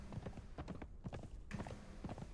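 Horse hooves clip-clop steadily and close while riding in the video game Mount & Blade: Warband, a continuous rhythmic gallop of rapid hoofbeats.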